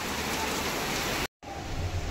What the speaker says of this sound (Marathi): खूप तुफान पाऊस पडतो आहे.